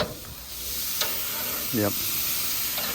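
Steaks sizzling in a hot pan, a faint steady frying hiss with a few brief clinks of utensils and a short spoken word over it.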